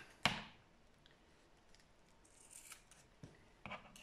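A single sharp snip of scissors cutting holly for a table decoration, close and crisp, followed by quieter rustling and a couple of faint clicks.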